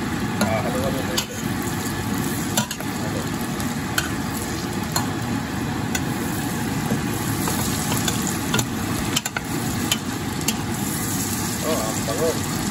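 Pancit canton noodles with carrots sizzle loudly in a frying pan while being stirred, with steady hissing and intermittent scraping, and a voice speaks at times over the cooking.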